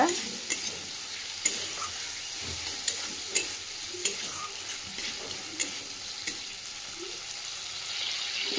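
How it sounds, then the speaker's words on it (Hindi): Tomatoes frying in a pan with a steady sizzle, while a spoon stirs and taps against the pan in repeated sharp clicks, close up and with no talking. "पानी मरीगला बिलाती गोटे पकईदे।"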